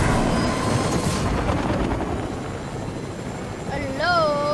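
Helicopter in the video game Fortnite, a steady broadband rotor and engine roar running throughout at fairly loud level, with a rising whistle-like tone near the end.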